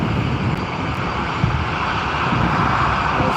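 A Tui airliner at Newcastle Airport in crosswind conditions, its engines giving a steady, fairly loud broadband roar that holds constant throughout with no talk over it.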